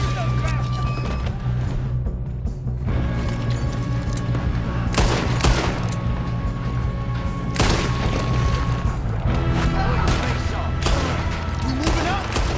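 A Red Dead Redemption 2 shootout with sustained rapid gunfire and booming shots throughout, heavy and continuous over a low rumbling score, with voices mixed in.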